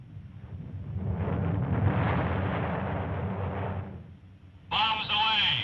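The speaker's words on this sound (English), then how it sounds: "Bombs away!" Bombs dropped by Allied bombers on Nazi war factories exploding: a sustained loud rumbling blast swells and fades over several seconds. A harsh burst of another sound follows, cutting off the rumble.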